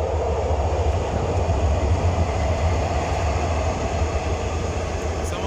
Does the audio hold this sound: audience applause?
no